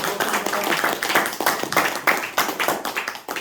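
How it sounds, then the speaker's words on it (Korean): Audience applause for a lecturer after a talk on Korean labour movement history, a dense patter of hand claps rising and falling over a few seconds, with some murmuring voices mixed in. "다시 한 번 더 크게 박수 드릴 수 있었습니다"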